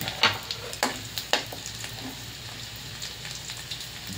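Garlic sautés in a wok with a bright, steady sizzle while a utensil stirs and scrapes it, several sharp clacks near the start and softer stirring later, with no talking.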